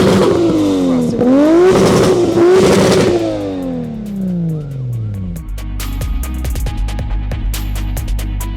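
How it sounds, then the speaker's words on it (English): A tuned 650+ hp turbocharged Toyota Supra Mk4 with a custom Blitz-spec exhaust revs hard twice, engine pitch climbing and dropping, then settles into a loud, rumbling idle with crackles, close and alone. "Now let's hear how this Toyota Supra sounds. This car has a custom Blitzner spec exhaust system, and it's pretty loud."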